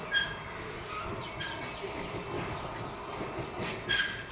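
Railway trolley rolling past at a small rural railway station, a steady rumble of wheels on the track with faint clicks and a brief metallic squeal, birds chirping lightly in the background.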